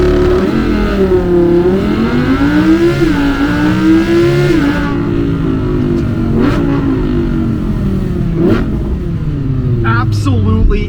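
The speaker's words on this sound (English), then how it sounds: "let's go ahead and do a 0 to 60 test in the 2018 V10 Audi R8" 2018 Audi R8 V10 launching in a 0 to 60 run, a loud close engine roar climbing in pitch through several quick upshifts, dipping at each change before rising again.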